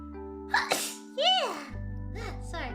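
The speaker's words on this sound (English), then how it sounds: "Wait, I need to sneeze." One person sneezes close to the microphone, a sharp burst following a quick breathy intake, amid bits of voice and a steady electronic hum.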